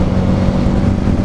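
Harley-Davidson Street 500 motorcycle engine held at high revs, a loud, steady, close drone with a dense low rumble and no break for the whole short stretch.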